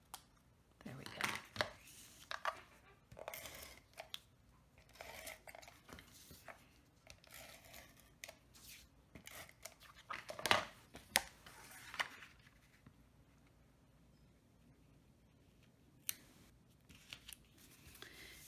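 Scissors trim the small stem off a stamped paper image for a card, a few soft, quiet snips spread out over the span, with faint low talking and light handling noise in between.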